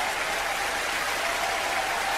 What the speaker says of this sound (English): They're cheering everything here.